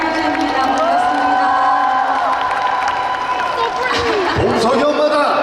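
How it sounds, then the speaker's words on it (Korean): A festival crowd cheers, whoops and claps for an actress at an open talk stage event, a dense, sustained roar of voices with scattered shouts rising and falling throughout. "박수 부탁드리겠습니다. 우리 한유주 배우님."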